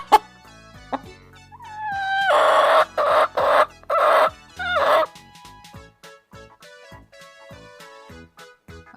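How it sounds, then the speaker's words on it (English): A hen and rooster heard over light music: a few sharp clucks, then a rooster's long loud crowing bursts in the middle, followed by plucked melodic notes. "H for hen."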